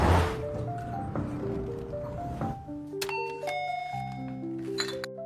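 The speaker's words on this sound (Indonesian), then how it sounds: "berkali-kali menekan bel pintu namun tak kunjung mendapat jawaban" A doorbell at an apartment door is pressed repeatedly, ringing out several bright two-tone ding-dong chimes in quick succession, fairly close and clear, with a low ambient hum under it in a film scene.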